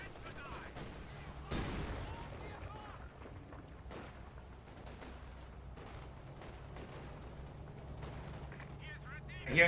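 Gunfire from a strategy video game as a Kenilworth armored car fires, dense crackling shots and booms under continuous talk, with a louder burst near the end.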